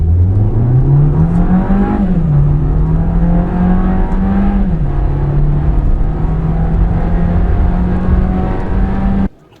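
A Volkswagen Jetta in sport mode accelerates hard from a standstill, its engine note climbing through several gearshifts with brief dips between them, loud and sustained before cutting off sharply at the end.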